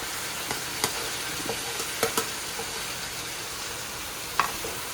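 Chopped tomatoes being stirred into a fish curry frying in a pan, a steady close sizzle with scattered spoon scrapes and small clinks, with no voices.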